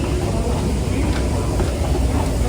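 Steady, loud rumble of a train at a station in Kaohsiung, Taiwan, a continuous broadband roar with faint rattling and no clear talk.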